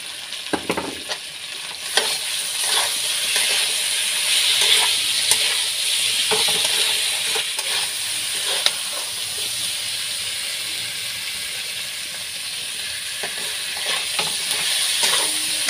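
Spices, turmeric and salt sizzle and fry in a pan for a rohu fish curry, a steady hissing crackle with occasional clinks and stirring scrapes, continuous and fairly close, no talk.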